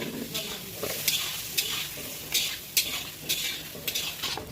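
Mutton liver fries in a pan with turmeric and salt while a utensil stirs it, giving regular sharp scrapes and clinks about every half second over a steady sizzle, close by.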